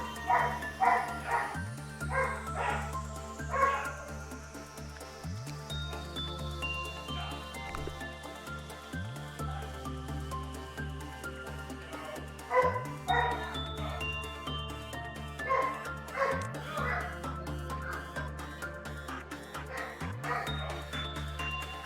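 Dog in the management game Lobotomy Corporation, barking in short clustered bursts with whimpers between them over a droning background hum, repeating across about twenty seconds.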